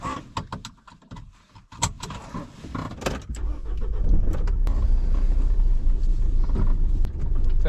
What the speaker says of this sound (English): I'm going to move the van now that there's space.